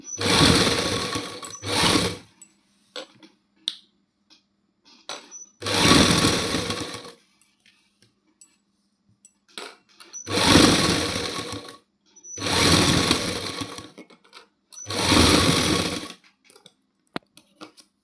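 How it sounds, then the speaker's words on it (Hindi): Sewing machine stitching lace onto a suit, running in five or six bursts of a few seconds each with quiet pauses between, loud and close. "सो इस तरह से दूसरी सिलाई भी कंप्लीट कर लेंगे"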